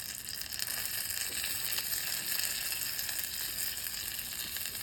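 A quesadilla cooks in butter in a hot pan, giving a steady, even hiss of sizzling that carries on without a break, close and moderately loud.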